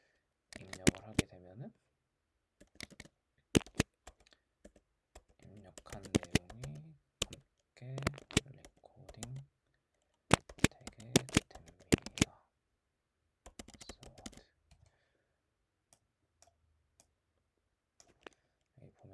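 Typing on a computer keyboard to enter login details comes as scattered bursts of sharp, close key clicks with quiet gaps between them, and someone talks at times over the tapping.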